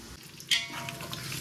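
Onions fry in a pan until golden brown for prawn biryani, a steady soft sizzle with a brief clatter from a spoon or the pan partway through; no voices.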